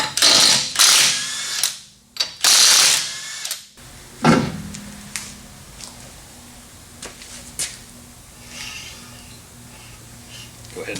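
Wheels with wide Rota Grid rims going onto a Ford Capri: two loud bursts of a power tool, then a series of scattered metallic clicks and ratchet-like ticks with quieter pauses between them.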